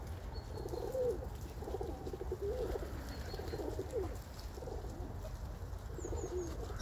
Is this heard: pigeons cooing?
yes